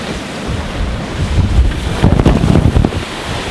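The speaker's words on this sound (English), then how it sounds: "We're having 26 knots of breeze in the face, big waves also in the face." Big ocean waves slam against a racing yacht in 26 knots of headwind, with loud wind buffeting the microphone and surges of surf and spray crashing in bursts throughout, no talk.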